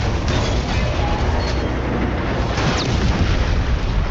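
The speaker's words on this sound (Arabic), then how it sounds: "ده انفجار بقى يعني" A continuous roaring rumble of an explosion in Marvel's Spider-Man Remastered, broad and steady throughout with no pauses, loud and dense like a sustained blast.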